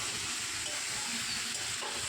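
Mushrooms sautéing with spices in a pan, a dense continuous sizzle with soft stirring scrapes throughout, close and fairly loud.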